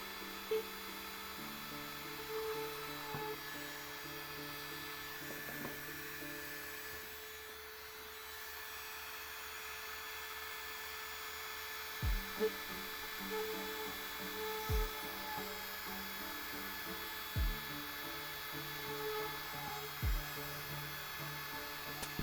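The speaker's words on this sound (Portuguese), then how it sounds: "Você vai colocar a sua furadeira ou micro retífica em uma velocidade mais ou menos boa e vai furar." A drill or small rotary tool bores holes while a remote control is built from scratch, a faint steady whine with its pitch shifting as the bit works, and a few soft knocks toward the end.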